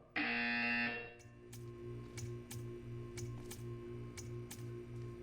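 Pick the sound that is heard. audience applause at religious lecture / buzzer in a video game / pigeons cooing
buzzer in a video game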